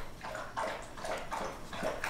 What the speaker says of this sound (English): pups are drinking water